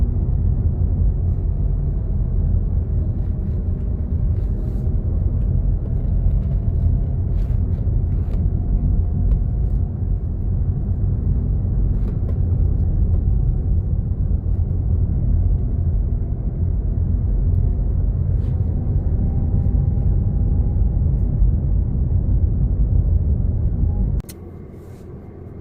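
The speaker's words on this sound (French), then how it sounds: "là je me suis arrêté pour laisser passer les véhicules derrière" Loud, steady engine and road rumble from inside a vehicle on a road to the river, with a continuous drone and faint passing swells, dropping abruptly quieter near the end.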